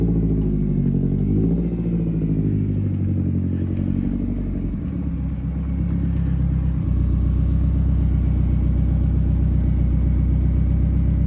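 A BMW 2002 fitted with a turbocharged 1.8 M42 engine rumbles close by, its revs rising and falling before settling into a steady, throbbing idle, with no talking.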